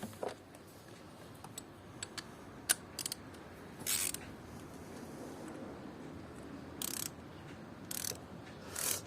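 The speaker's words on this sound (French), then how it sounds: "on terminera le serrage à l'aide de la clé à bougie" Spark plug wrench turning and tightening a spark plug into an engine cylinder head, giving soft ratcheting clicks and brief metallic scrapes spaced unevenly over a low background hum, close and fairly quiet, with no talking.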